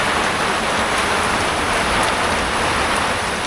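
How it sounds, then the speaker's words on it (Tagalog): Heavy rain pours down steadily, a dense, loud hiss of drops on surfaces that stays constant from start to finish with no talk. "nalakas ng ulan"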